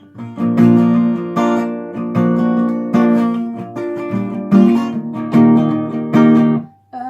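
An acoustic guitar strumming chords in a steady down-up pattern from a song, with even rhythmic bursts in groups, near and prominent, and no talking.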